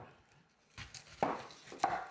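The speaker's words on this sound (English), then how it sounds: "You gotta chop up 2 onions." Knife chopping onions on a cutting board for an old family holiday recipe, with a few sharp, irregular thuds, close and fairly quiet, the last two strokes loudest, with no talk.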